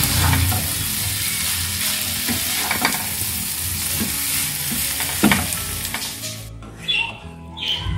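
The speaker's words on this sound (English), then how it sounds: "Mix this nicely so that the flavors are absorbed in noodles." Noodles tossed and stirred with cooked vegetables and sauce in a hot pan for Chinese noodles, a steady close sizzle with scraping stir strokes throughout, then quieter clinks near the end.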